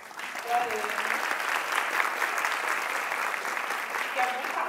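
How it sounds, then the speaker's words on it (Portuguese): Audience applause at a festival panel on technology in education in Brazil, steady close clapping from a seated crowd that holds evenly, with brief voices underneath. "Por favor, uma salva de palmas para a Ana."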